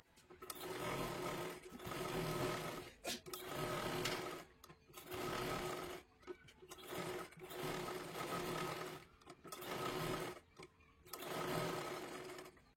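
An electric sewing machine stitches a katori blouse lining in short bursts, a loud whirring rattle that starts and stops about eight times, with brief quiet pauses between runs.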